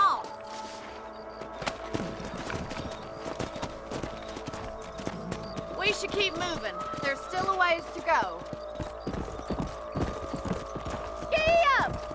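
Horse hooves clip-clop steadily through a ride in the western game Red Dead Redemption, with occasional whinnies and snorts, running continuously beneath a man's conversational speech and outdoor ambience.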